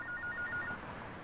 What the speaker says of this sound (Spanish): No apagué el sonido de mi teléfono.